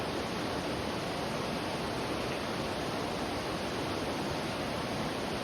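A waterfall at a cascade on a backpacking trail roars as a constant, broadband rush of falling water, steady and close with no voices.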